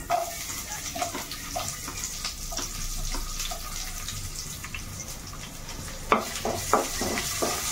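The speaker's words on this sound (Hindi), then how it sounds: "जीरा पियाज टी भाजिया भले" Onions frying with cumin for kakharu saga, a steady soft sizzle with repeated clinks and scrapes of stirring in the pan, close and moderately loud, with no talk.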